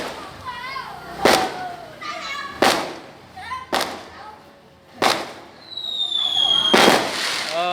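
New Year 2020 fireworks go off outdoors in a series of five sharp bangs and thumps with whistling rockets between them, loud and near, while children chatter and call out.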